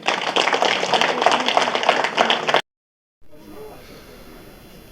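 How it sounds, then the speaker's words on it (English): An audience at a university inauguration ceremony in Pahalgam, Kashmir, bursts into loud, dense applause that cuts off abruptly. A much quieter stretch of room noise follows. "Ladies and gentlemen, a big round of applause."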